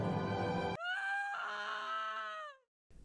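A video game character lets out a high, wavering scream that lasts about two seconds, loud and close, then cuts to brief silence before another sound starts.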